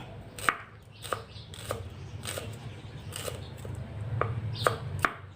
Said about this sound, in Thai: หั่นตามใจชอบนะจะหั่นข้างไหนก็ได้นะหอม